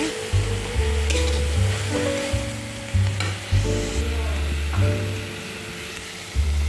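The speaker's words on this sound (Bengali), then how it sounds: "হলুদ আর জিরে গুঁড়োটা দিয়ে একটু ভালো করে কষিয়ে নেব" Turmeric and cumin powder frying in a pan for a pumpkin, potato and prawn curry, with a steady close sizzle and repeated scraping stirs of a spatula, no voices.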